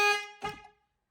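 A Ford Puma's horn honks twice in quick succession as an alarm notification: a loud, sustained blare followed by a shorter, rougher toot, then silence.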